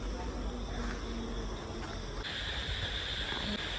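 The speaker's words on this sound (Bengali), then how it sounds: "ব্যাঙ আর ঝিঝি পোকা।" At night in rain-soaked Joypur Forest, crickets and frogs call in a dense, steady trill. A higher insect tone joins partway through, and a soft wash of rain sits underneath.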